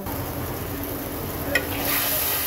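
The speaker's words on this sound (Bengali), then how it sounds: "এইবার মশলাটাকে সুন্দর করে কষাবো।" Spice paste with salt, water and fried potatoes stirred in a pan for a fish curry, a steady soft sizzle with scraping stirs and a brief utensil clink midway, close and continuous.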